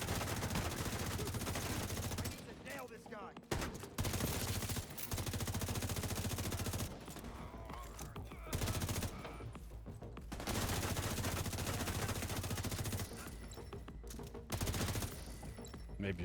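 Bursts of automatic gunfire in the shooter game The Division 2, dense rapid fusillades broken by brief pauses, loud throughout with no talk over them.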